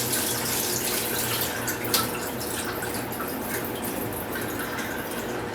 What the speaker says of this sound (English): So this morning I got up and I can drain the water.